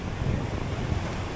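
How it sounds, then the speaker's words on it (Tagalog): Loud steady wind blowing across a seaside fishing spot, a dense rushing roar mixed with the wash of waves, with low microphone rumble throughout. "Grabe yung hangin."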